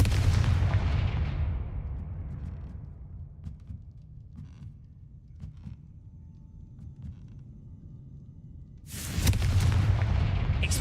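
Confringo fire-spell blasts in the video game Hogwarts Legacy: a loud booming explosion that fades over a couple of seconds, sparse small crackles, then a second heavy burst near the end.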